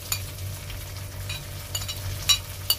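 Chopped green chilies hitting a hot frying pan for dal fry, giving a steady close sizzle with a few brief louder crackles and stirring scrapes, no talking.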